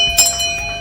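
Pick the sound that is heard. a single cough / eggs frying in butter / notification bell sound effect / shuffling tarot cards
notification bell sound effect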